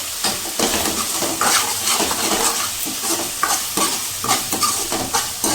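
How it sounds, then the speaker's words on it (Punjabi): Masala spice mix roasting in oil in a pan for Jammu-style red rajma, loud continuous sizzle and frying hiss with a spatula scraping and stirring against the pan throughout. "ਮਸਾਲੇ ਨੂੰ ਹੁਣ ਅਸੀਂ ਚੰਗੀ ਤਰ੍ਹਾਂ ਭੁੰਨਾਂਗੇ ਜਦ ਤੱਕ ਮਸਾਲਾ ਸਾਡਾ ਤੇਲ ਨਾ ਛੱਡ ਦੇਵੇ"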